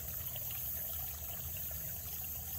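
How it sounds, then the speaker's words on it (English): Spring water trickling and running steadily outdoors, a soft, continuous babble heard up close and faint, with no voices. "sit here and listen to the water run"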